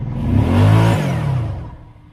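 A Kawasaki Teryx UTV in two-wheel drive high on a slick incline, its engine revving loud and close in a single rising-then-fading surge, with a whirring drivetrain and a light clatter.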